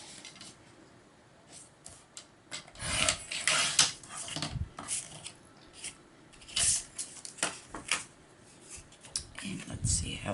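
A hand trimmer rasps and scrapes across wood being cut for a clock, irregular close rubbing strokes in bursts with quieter gaps between.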